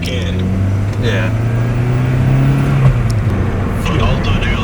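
A rebuilt Acura TSX engine rises steadily in pitch as it accelerates through a pull, a close and constant drone inside the car, with people talking over it.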